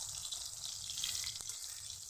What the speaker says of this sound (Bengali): এবার বেগুনটাকে আমি তেলের ভিতরে এরকম সুন্দর করে বসিয়ে দিই